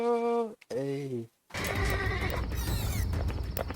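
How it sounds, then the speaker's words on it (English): An Amish horse pulling a buggy gives a loud, close whinny in two bursts, followed by rumbling road and wheel noise as the buggy moves. "An Amish horse and buggy whips around a corner, producing sparks in its DQ wake right there."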